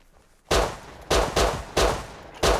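Semi-automatic rifle fire in a video game: five sharp, loud shots spaced unevenly over about two seconds, each with a short ringing tail.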